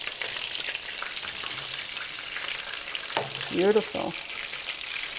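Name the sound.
meatballs frying and browning in oil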